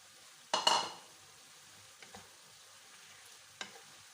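Betong yellow noodles stir-fried with vegetables in a pan: a brief burst of sizzling and scraping early on, then a few faint, sparse clinks and stirs amid quiet, with no talking.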